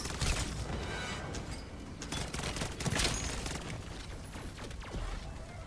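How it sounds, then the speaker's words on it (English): Dense, loud gunfire from a Rival 9 pistol with an aftermarket kit in a shooter video game, a continuous barrage of overlapping shots and mechanical clatter with a few heavier bursts. "But he's shooting at me."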